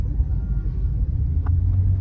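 Congested road traffic stuck near metro construction works produces a steady low rumble of idling vehicles, close and continuous.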